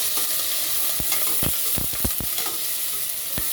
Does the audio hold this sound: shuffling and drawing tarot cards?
no